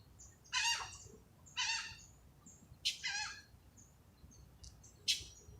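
Outdoors in the morning, a bird gives four separate harsh, burry calls spaced about a second apart, fairly faint against quiet background hiss, with a few thin chirps between them.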